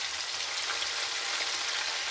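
Onions, green pepper and garlic sizzle in a hot pan for stew chicken, a brief, steady, close crackling hiss with no talk.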